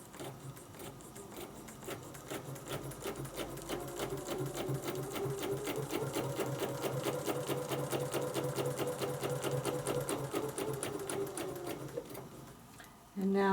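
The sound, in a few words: sewing machine stitching a circle with Westalee template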